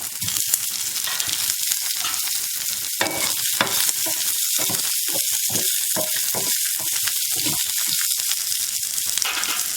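Red chillies and coconut pieces sauté in a pan for mint thuvaiyal, giving a loud, dense, continuous sizzle close up, broken by quick scraping stirs.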